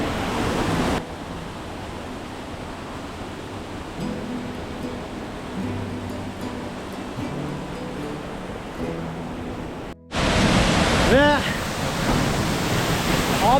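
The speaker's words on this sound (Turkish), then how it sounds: "şelaleye kadar geldik." Steady broadband rushing of a waterfall in the Caucasus mountains of Azerbaijan, heard close and continuous. The roar briefly cuts out near the end before resuming louder.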